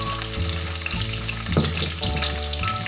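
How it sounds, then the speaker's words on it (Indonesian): Five garlic cloves and three bird's eye chilies stir-fry in hot oil for garlic fried rice, giving a loud, steady sizzle with stirring scrapes throughout and no talking. "Sekali saya tumiskan 5 ulas bawang putih dan 3 biji cili padi."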